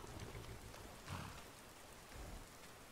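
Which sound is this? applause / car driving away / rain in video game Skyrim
rain in video game Skyrim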